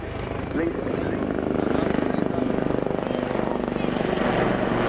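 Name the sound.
Wildcat helicopter flying at Yeovilton navy airshow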